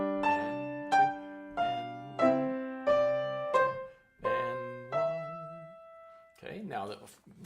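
Intermediate-level piano exercise played with both hands: a steady sequence of about seven sustained chords struck at regular intervals, with low bass notes under upper harmonies, followed by a brief trailing sound at the end.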